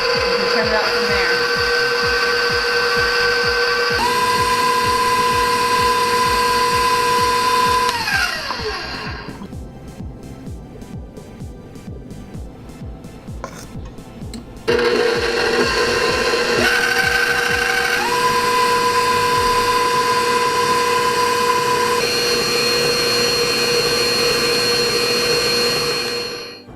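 An electric mixer whirs steadily as it beats icing sugar into royal icing, its pitch stepping up and down with speed changes, easing briefly before roaring back loud and close; a voice talks over it.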